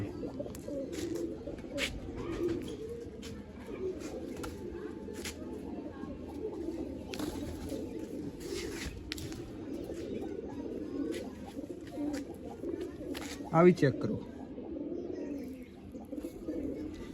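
Kalsira pigeons coo in a steady, low murmuring drone that carries throughout, with someone speaking intermittently over the birds and one louder vocal burst near the end.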